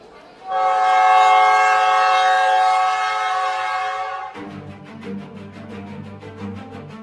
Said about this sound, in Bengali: কামরূপ এক্সপ্রেস হুইসেল দিল। ট্রেনের চাকা গড়াতে শুরু করলো।